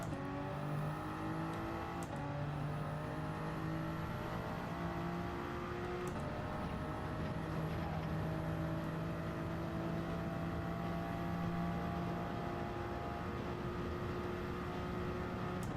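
A Toyota Supra race car in Gran Turismo 7 drones steadily with its engine, pitch sweeping up and down through gear changes and long pulls, joined by other cars' engines in a continuous racing roar.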